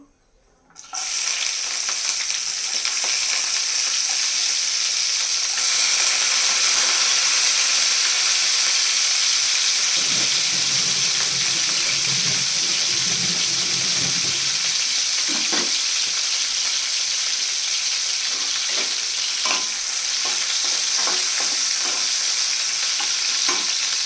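Garlic and green chili frying in hot oil, a loud, steady sizzle that keeps going with occasional stirring scrapes.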